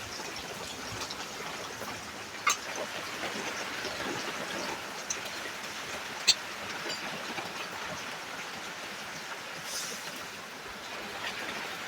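Paste of poppy seed and white mustard ground with green chili hits hot oil on a clay stove for an eggplant dish, giving a steady, fairly quiet hiss of sizzling with a few small pops.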